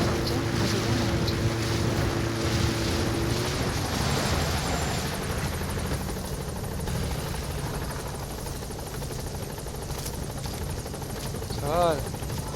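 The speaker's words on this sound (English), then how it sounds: "Support helicopter has arrived." A support helicopter arriving in a video game, its rotor thrumming steadily throughout alongside wind-like rushing noise, with a short tonal sweep near the end.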